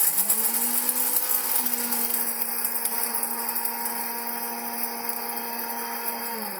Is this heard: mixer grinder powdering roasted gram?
yes